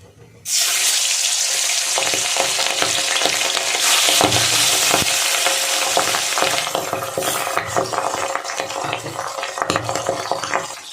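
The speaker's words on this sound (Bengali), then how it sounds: "দেখুন বন্ধুরা, মাছটা ভাজা হচ্ছে।" Hot oil sizzles and crackles steadily as fish fries after an abrupt start, a loud, close frying hiss with scattered pops and spits throughout.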